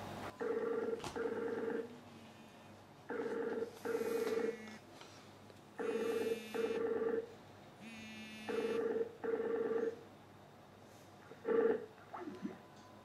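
A Skype call ringtone on an Android phone repeats in paired bursts of electronic tones with pauses between, interrupted near the end by faint rising tones and a short voice-like sound.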